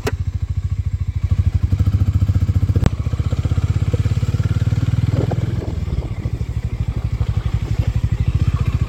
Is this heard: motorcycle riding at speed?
yes